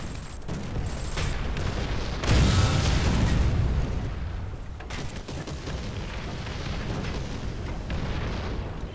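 Tank cannon fire and explosions in War Thunder ground battles at a Normandy, 6 June 1944 event: a heavy boom with a rumbling blast, then sustained battle noise and further distant impacts.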